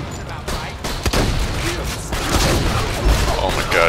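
Dense gunfire from a gun in the video game Borderlands 2, a busy mix of shots, thuds and mechanical clatter running continuously at moderate loudness, with voices mixed in.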